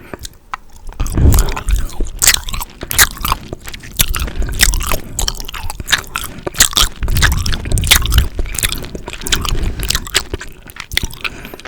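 Close, crisp biting and squishy chewing of a Haribo Tropifruitti banana gummy, with repeated wet mastication sounds running steadily throughout.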